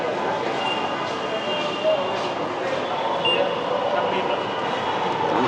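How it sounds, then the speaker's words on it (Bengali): A Dhaka metro rail train stands at the Kawran Bazar station platform, giving a steady mechanical hum and tonal whine amid the busy platform ambience, with a few faint clunks. "ফাইনালি আমি চলে এসেছি মেট্রো রেলের প্ল্যাটফর্মে। আপনারা দেখতে পাচ্ছেন এখানে মেট্রো দাঁড়িয়ে রয়েছে।"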